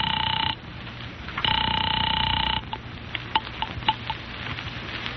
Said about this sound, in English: I'm ringing Miss Blake's apartment.